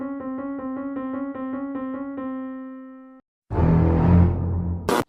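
A melody built on a semitone interval, played as repeated two-note pulses on a clean, piano-like tone that speeds up and then holds, followed after a brief gap by a louder, dense orchestral burst.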